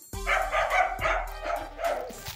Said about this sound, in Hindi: कुत्ता भी भौंक रहा